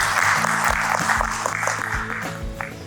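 An audience applauds steadily at a Samsung remittance campaign event in Nepal, a continuous broadband patter with voices and murmur mixed in throughout.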